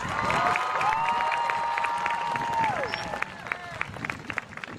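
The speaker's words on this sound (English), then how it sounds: "I'd like all of you to give your parents or your guardians a round of applause" A crowd at a Linden High School graduation ceremony applauds parents and guardians with sustained clapping and scattered cheers, while a high sustained whistle-like tone glides over the noise before fading.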